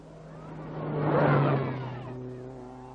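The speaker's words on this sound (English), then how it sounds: "Aaltonen and Lidden, well known on the Monte Carlo rally scene in their Lancia Fulvia" A Lancia Fulvia rally car on the 1969 Safari Rally, its engine rising in a revving swell as it passes fairly close, peaking midway and then fading.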